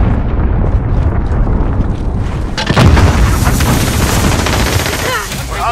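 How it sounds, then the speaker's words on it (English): Cruise missile explosion in the video game Call of Duty: Modern Warfare, a heavy boom with a roaring blast tail over continuous gunfire and battle noise, with game announcer voices in the mix. "Enemy cruise missile."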